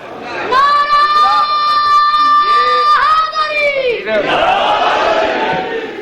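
A crowd at a Shia religious sermon gathering chants a slogan in loud unison, the sustained massed voices rising and holding for several seconds before breaking into a rougher, scattered roar near the end.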